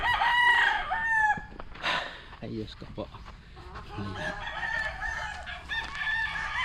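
Roosters crow loudly nearby, one long call at the start followed by more crowing and clucking, with a person briefly speaking Filipino in between.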